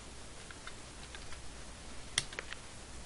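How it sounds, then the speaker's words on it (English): Faint, quick keystrokes clatter on a computer keyboard during spreadsheet entry, a short burst of light clicks over quiet room hiss. "I'll type that in here"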